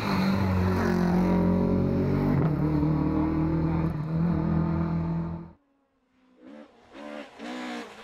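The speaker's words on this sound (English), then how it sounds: "The sound of the Escort going through the gap were the soundings of its death knell." A historic Ford Escort rally car at the Killarney Historic Rally roars loudly and close on a stage, its engine note sustained and rising. It then cuts off abruptly, followed by quieter, uneven bursts of engine sound.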